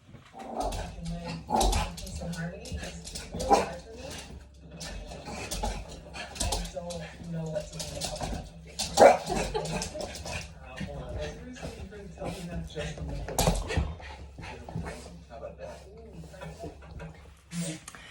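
A dog outdoors gives scattered barks and low growls, close and fairly loud, repeated at irregular moments among ongoing background noise.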